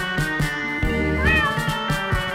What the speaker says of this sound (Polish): O nie, na moim dachu jest kot!